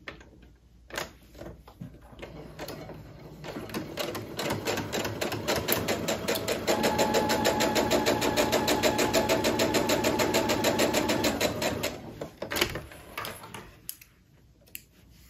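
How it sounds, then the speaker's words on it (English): Sewing machine stitching baby quilt pieces, a steady fast mechanical whir with a rapid needle tick that builds up, holds for several seconds and then slows to a stop, close and with no talk. "So now I'll sew."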